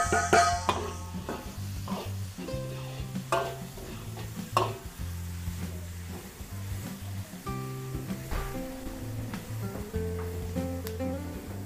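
Garlic and onion being sautéed and stirred in a pan for a Filipino adobo, a steady sizzle with repeated scraping stirs and utensil knocks, close and continuous with no talking.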